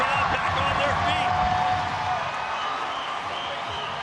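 A boxing arena crowd at the Lucas Matthysse vs Manny Pacquiao fight cheers and applauds in a continuous roar, with a ringside commentator talking over it.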